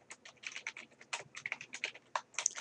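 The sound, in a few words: typing text on a computer keyboard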